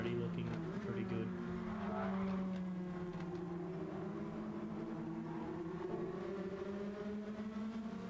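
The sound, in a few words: race cars in background of a sim racing video game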